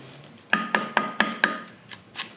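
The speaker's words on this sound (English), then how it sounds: "as soon as I turn the camera off, I remembered that you just stick your screwdriver in this little notch" A screwdriver is struck into a notch to free a snap ring on a second-generation Toyota 4Runner part, giving five sharp, evenly spaced metallic taps followed by two softer ones.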